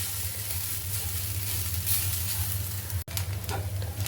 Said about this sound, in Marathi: खोबरं थोडंसं लालसर होईपर्यंत भाजायचं आहे